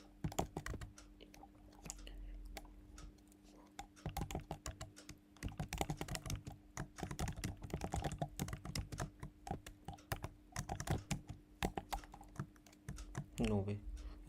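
Rapid clicking of a computer keyboard during coding practice, bursts of keystrokes with short pauses, close and fairly quiet, with a low steady hum beneath.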